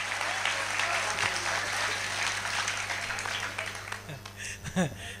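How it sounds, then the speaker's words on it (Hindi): A crowd at a large Hindi poetry gathering claps with hands raised, a moderate, steady patter of many hands that thins toward the end as a voice briefly cuts in over it. "एक बार पीछे तक के लोग दोनों हाथ ऊपर उठाकर तालियां बजाकर मुझे बताएं कि कैसा लग रहा है।"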